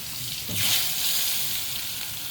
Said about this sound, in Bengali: এবার চলো আলুগুলোকে ভেজে নেবে